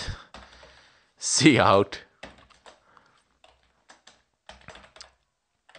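Typing C++ code on a computer keyboard, with soft key clicks coming in scattered bursts around a man's speech.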